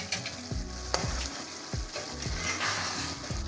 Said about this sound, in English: Okay, 1 minute has passed now, so I'm just going to quickly stir it.